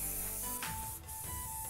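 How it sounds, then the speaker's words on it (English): A short, steady hiss of hairspray sprayed onto set hair while styling vintage waves, heard close up for under two seconds. "we're just now gonna spray with some hairspray"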